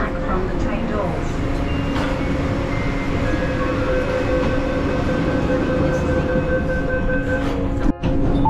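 Steady loud rumble and whine of a metro train in motion, heard from inside, with faint murmuring voices and a brief clunk near the end.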